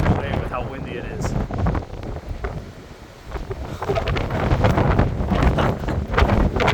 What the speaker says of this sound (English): it is so windy. I'm sure all of you can hear this